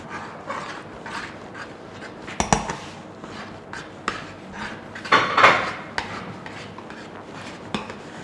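Soft bean pudding mixture with ground fresh ginger being mixed by hand in a bowl, giving scattered scraping and clinking of a utensil against the dish, with a couple of louder knocks near the middle and softer scrapes between.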